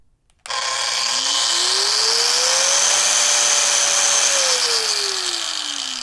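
A Steelforce angle grinder with slow start spins up gradually, its whine rising smoothly in pitch over a few seconds before settling into a steady, loud high-speed hum.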